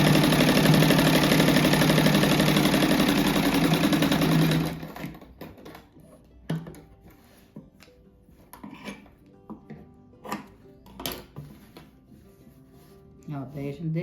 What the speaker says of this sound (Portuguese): Ó, daí eu já costuro essa faixinha pra depois ir pro outro lado.